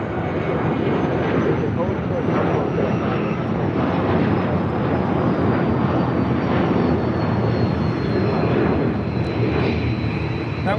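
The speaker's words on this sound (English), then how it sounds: "That was American 613 taking off to Chicago." An American Airlines airliner takes off at LAX, its engine roar broad and sustained for the whole stretch at a moderate distance, with a voice talking over it.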